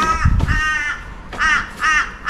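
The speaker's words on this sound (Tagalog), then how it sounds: "Ang ingay ng mga uwak." Crows caw loudly nearby in Australia, several harsh calls in spaced bursts with short pauses between them.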